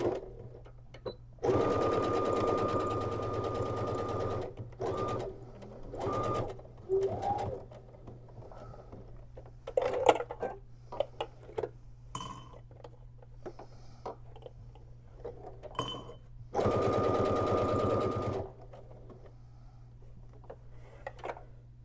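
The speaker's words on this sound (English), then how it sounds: "And I'm going to sew the whole thing, and I'm going to sew here a little bit" A home sewing machine stitching a fabric crossbody bag in several bursts of steady, close mechanical whirring. Short pauses, small clicks and handling noises fall between the runs.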